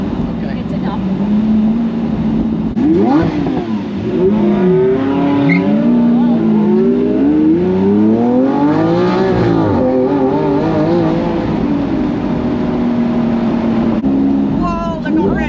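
Race cars roaring around a track with rising and falling engine pitch and squealing tires during a wreck, loud and continuous, while people in the car talk and exclaim over it.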